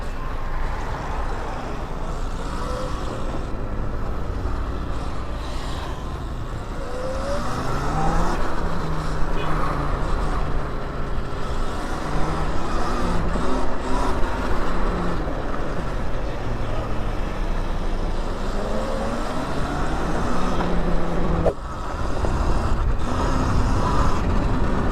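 Road traffic rolling past a rider on a Sur Ron electric dirt bike, a continuous roar of cars and heavier vehicles with tire noise swelling and fading as they pass, near and fairly loud throughout.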